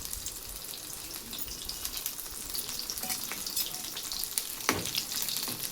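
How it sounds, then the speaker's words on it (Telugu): Garlic frying in hot oil sizzles steadily up close, with light crackling, a few stirring scrapes and one sharp clink near the end. "ఆయిల్ అయితే కాగిందండి ఫస్ట్గా ఎల్లుల్లిపాయలు అయితే వేసేసుకుందాం"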